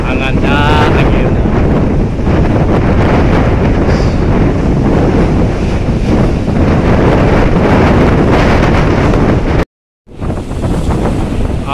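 Strong wind roars steadily across the microphone on the ferry KMP Mira Berlian at sea, with surf beneath it, loud and unbroken apart from a brief cut near the end.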